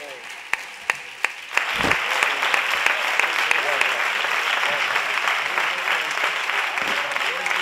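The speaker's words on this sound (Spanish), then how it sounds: "Un aplauso para mí, para mi Paco." Audience at a flamenco concert breaks into loud applause after a few scattered claps, the clapping swelling quickly and holding steady with cheers mixed in, while a voice talks over it.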